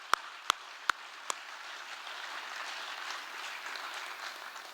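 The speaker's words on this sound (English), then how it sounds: "Once again, let's give a big round of applause to Rob Seitz." Theatre audience applauding after a comedy set at the Liberty Theatre, a steady wash of clapping with a few sharp close claps at the start, moderately loud and without talk.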